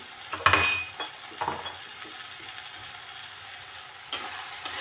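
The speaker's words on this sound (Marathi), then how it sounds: "वांग छान असं फ्राय करून घेऊ बघा" Eggplant bharit for a spicy Khandeshi-style dish is stirred in a hot pan, with scraping, clinking stirs over a steady low sizzle, louder near the start and again toward the end.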